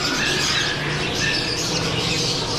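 Lovebirds squawk and chirp steadily inside a busy pet shop, a dense continuous chatter of many birds close by with no clear pauses.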